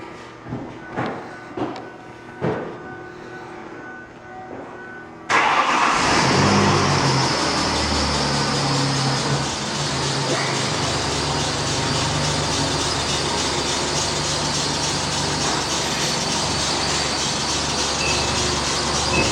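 A few clicks and clunks, then a loud motor kicks in and hums continuously as a car lift raises a car steadily for a long stretch.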